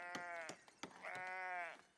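Sheep bleating in the video game Etalyx Foundation, with a couple of wavering bleats, one long and drawn out, amid soft clicks and grazing noises.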